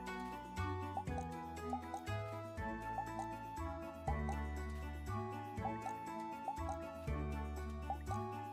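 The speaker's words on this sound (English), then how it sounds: "We need to water the plants first." Plants being watered in the farming video game Moonstone Island, soft repeated droplet-like splashes in a steady pattern over a looping melodic game soundtrack, with a voice briefly audible.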